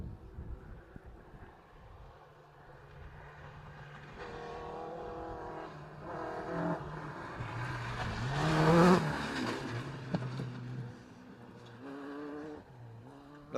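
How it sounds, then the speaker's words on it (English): A David Sutton works Ford Escort rally car drives fast through woods, its engine note building to a loud, close pass around the middle, then easing away while the motor still revs. "it's a valuable enough car to be taken through the woods at that speed"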